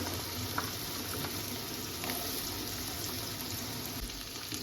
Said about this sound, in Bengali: এবার এই তেলের মধ্যে আমি আলুগুলো দিয়ে দেব